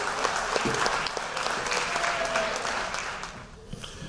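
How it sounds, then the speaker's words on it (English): Steady crowd applause fills a fall sports athletic banquet hall as the varsity football team is recognised, thinning slightly near the end with a few voices underneath. "Let's give them a round of applause."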